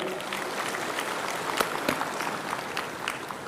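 Brief burst of audience clapping at a civil servant inauguration ceremony in Badung, dense and steady with occasional louder individual claps, and voices faintly underneath.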